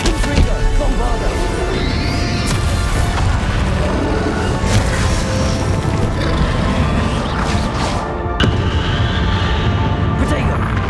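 Explosive Bombardo spells cast in a Hogwarts Legacy battle, loud booming blasts and crashes layered over dense combat noise, with sharp impacts recurring throughout.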